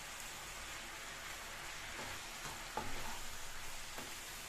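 Gongura leaves frying in a pan make a soft, steady sizzle with light crackles and a couple of stirring scrapes, faint and even throughout.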